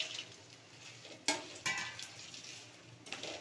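Dried red chillies, including Kashmiri chillies, dry-roast in a pan for sambar powder, making a soft crackle and rustle with a few sharp scraping stir strokes and clinks of a utensil against the pan, and no talking.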